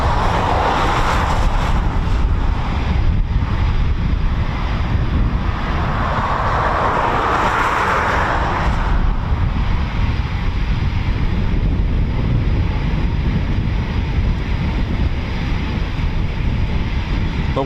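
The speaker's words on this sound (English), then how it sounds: "So we've got another startup from the Typhoons here on the main ASP aircraft servicing platform." Eurofighter Typhoon FGR4 jet engines starting up on the main aircraft servicing platform at RAF Coningsby, heard as a steady, distant broadband roar that swells briefly midway, mixed with buffeting wind noise on the microphone and no talking.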